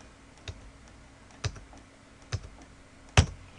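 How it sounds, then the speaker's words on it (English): A computer keyboard's backspace or delete key is tapped four separate times at uneven intervals, crisp close clicks against a quiet room. "pressing the backspace or delete key"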